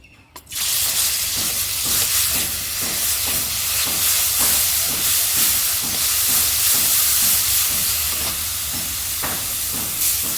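Ground banana flower paste and dal fry in hot oil in a wok, a loud continuous hiss and crackle with rhythmic stirring pulses throughout, close by.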